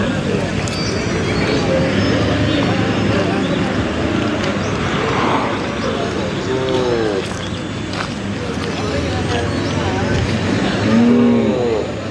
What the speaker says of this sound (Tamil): சிவன்மலை மாடுங்க